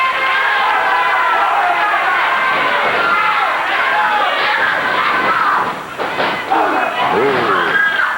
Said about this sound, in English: He was encouraged by the crowd.